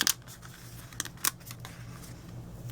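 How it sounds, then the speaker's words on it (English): Washi tape peeled from a die-cut paper circle, with a few short crisp tearing and crinkling bursts over a faint steady background hum. "peel that washi tape off gently"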